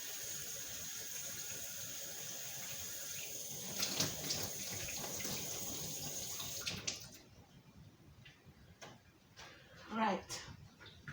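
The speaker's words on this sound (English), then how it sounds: "So wash my hands." Tap water running into a sink while hands are washed in a home kitchen, a steady close rush that stops partway, followed by quieter clattering and handling sounds.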